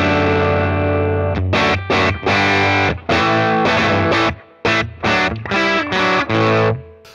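Electric guitar played through a Tonex One preset with its drive turned down rings out in a series of crunchy chords, loud and close, with short gaps between strums and no talking.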